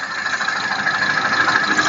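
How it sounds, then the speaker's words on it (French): A car engine idles roughly with its camshaft phaser actuated, close and loud with a steady mechanical hum and light knocking texture as it nears stalling. "Donc au ralenti on devrait faire caler le moteur."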